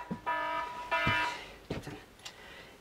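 An alarm buzzer sounds in two loud harmonic tones, each lasting about half a second, followed by a few short clicks and noises.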